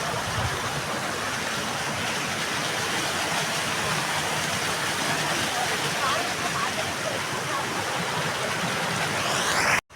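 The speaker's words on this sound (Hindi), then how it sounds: "देखो पानी उत्तराखंड में कैसे बहता है भाई, झरना आपको दिखाते हैं।" A waterfall and a fast-flowing stream in Uttarakhand roar continuously and loudly, a dense, steady rush of water filling the whole stretch with no pauses.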